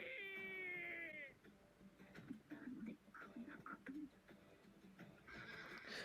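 A horse in the Attack on Titan anime lets out a long, loud whinny at the start, followed by softer voices and movement, then another high horse call near the end.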